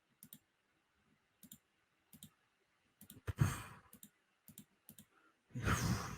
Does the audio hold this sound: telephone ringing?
no